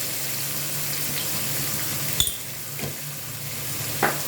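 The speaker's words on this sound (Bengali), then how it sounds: "লবণ দিয়ে ভালোভাবে আমি পেঁয়াজটা ভেজে নেব।" Onion frying in oil with a little salt in a kitchen pan, a soft steady sizzle at moderate distance, punctuated by a few short scraping stirs of a spatula, with no one talking.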